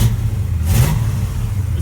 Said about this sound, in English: It's just got a really nice lumpy idle.